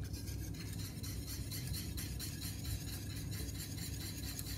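A spoon stirs milk into a roux in a pan for a thick white sauce, making a steady, close scraping and swishing with a soft sizzle underneath.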